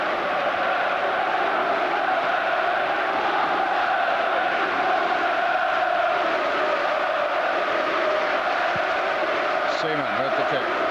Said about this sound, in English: the crowd is certainly very responsive